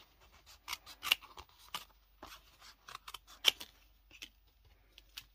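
Scissors cut paper for a handmade shaker card with quiet, close snips, some louder than others, in an uneven rhythm broken by short pauses.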